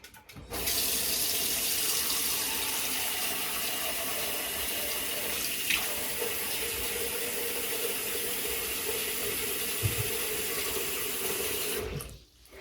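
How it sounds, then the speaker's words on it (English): Water runs steadily from a tap into a sink for about eleven seconds, a close, even rushing hiss that starts and stops abruptly, with no talking over it. "I'm going to fill my sink with some water."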